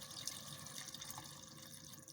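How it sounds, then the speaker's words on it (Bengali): Water poured in a small amount into a pot of chicken curry, a soft, steady trickle and splash that runs quietly for a couple of seconds with no voices. "অল্প পরিমাণ পানি দিয়ে দেব"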